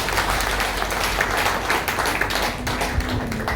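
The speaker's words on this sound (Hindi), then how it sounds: "आप एक बार फिर से जोरदार ताली अपने लिए बजाते हैं" Dense audience clapping rings out continuously, loud and close, with a faint voice briefly underneath.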